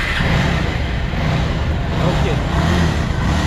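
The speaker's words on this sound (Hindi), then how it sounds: "हमने आपको दिखा दिया पल्सर 220 स्टार्ट करके" Bajaj Pulsar 220 motorcycle with 25,000 km on it, a used bike for sale, idling with a steady low engine drone throughout, under a brief spoken word.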